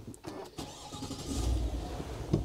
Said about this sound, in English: So I'm going to start the car here.